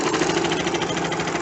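A sewing machine stitches a plain seam joining two pieces of fabric, its motor running in a steady, rapid rhythmic whir close by, with no talking.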